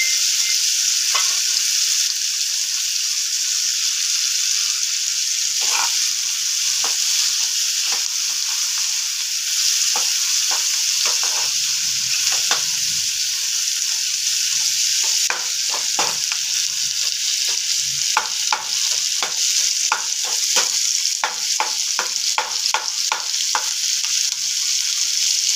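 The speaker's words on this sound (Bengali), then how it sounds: "এবার এই দেশি পেঁয়াজগুলো বেরেস্তা করবো না, অথচ ভাজবো, একটু একটু লালচে লালচে ভাব হবে" Local onions frying in oil until lightly reddened, a loud steady sizzle with a bright hiss, crackling and spitting pops that grow more frequent toward the end, without any voices.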